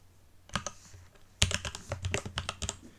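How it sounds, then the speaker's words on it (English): Keys clatter on a computer keyboard in quick bursts during a web coding session, a short burst, a pause, then a longer run of crisp close clicks with a heavier thump that may be the space bar. "One thing that I don't like about this keyboard is the space key."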